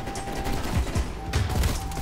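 Dense bursts of gunfire rattle in a Call of Duty: Cold War multiplayer match, with rapid overlapping shots and mechanical clatter, close and loud throughout.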